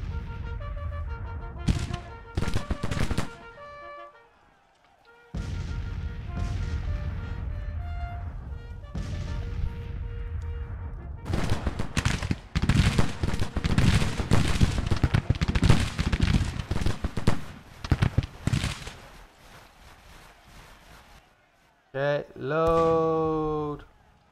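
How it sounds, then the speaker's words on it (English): Repeated gunshots crack in uneven bursts during a Civil War video game skirmish, loud and close with volleys clustering together, broken by brief pauses and a sharp tonal call near the end, with voices heard throughout. "keep skirmishing and keep shooting the enemy if I'm able to"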